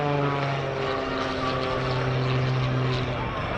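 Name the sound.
aerobatic airplane engine during spin routine at airshow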